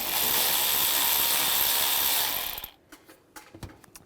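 A ratchet wrench with an 8mm socket loosens a worm-drive hose clamp under the hood of a 2007-2013 Chevrolet Silverado, a dense, loud mechanical whir for a few seconds that stops abruptly, followed by a few scattered clicks and handling sounds.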